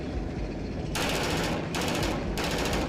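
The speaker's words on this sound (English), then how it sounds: "The sound of the Bushmaster cannons fills the air." Heavy rapid-fire Bushmaster autocannon bursts, two long sustained volleys of rapid thudding shots over a constant rumbling background.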